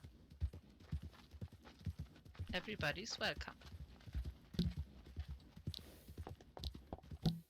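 Horse hooves clip-clop on the ground during a mixed riding class with ponies and large horses, a bit irregular as one horse moves out of control, heard under nearby talking.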